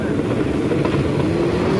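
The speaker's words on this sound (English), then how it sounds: "The Hellcat Challenger and the 4th Gen Camaro going down the racetrack next." Engine roar from a Hellcat Challenger and a fourth-generation Camaro drag racing down a racetrack, a steady loud drone with a rising pitch, no voices.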